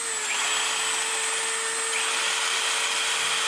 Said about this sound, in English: Now we're gonna turn the jigsaw on.